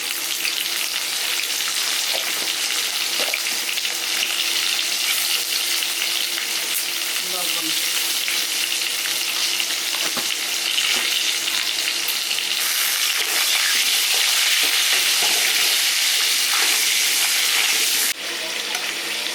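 Potatoes fry in a pan of hot oil during preparation of a country chicken curry, giving a steady, loud, dense sizzle across the whole stretch with occasional stirring scrapes and no voices.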